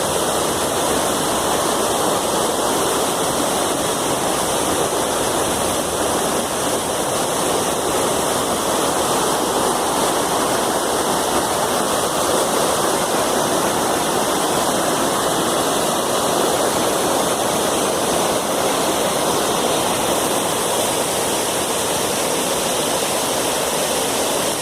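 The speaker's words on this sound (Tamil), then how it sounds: "வழியில் நாங்கள் ஒரு ஓடையை பார்த்தோம்." A roadside stream in the Swiss countryside rushes steadily, a dense broadband wash of flowing water that stays constant and fairly loud throughout with no speech.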